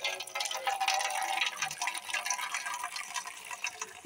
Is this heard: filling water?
yes